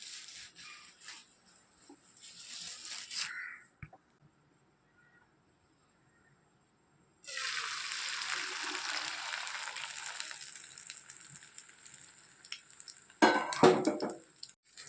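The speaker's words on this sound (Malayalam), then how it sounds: "നമുക്ക് പെട്ടെന്ന് തന്നെ മുട്ട വറുക്കാം" Eggs fry in coconut oil in a home kitchen pan, giving a steady loud sizzle that runs for several seconds after a quiet pause, with pan clatter and utensil scraping near the end.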